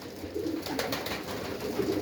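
Pigeons in a pigeon loft coo softly and repeatedly, low throaty calls layered over a steady background hiss.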